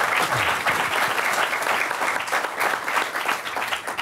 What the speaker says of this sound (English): So a round of applause for our panel and our moderator